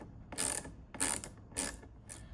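A ratchet wrench undoes quarter-inch nuts on a DeLorean while the trip reset stem is replaced. Four short, close ratcheting bursts come at an even pace, with quiet gaps between strokes.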